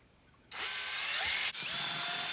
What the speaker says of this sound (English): he's taking the drill with a new drill bit in and he is screwing out where